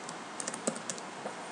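Rapid keystrokes on a computer keyboard as a table name is entered, a close, light run of clicks with a few firmer taps mixed in.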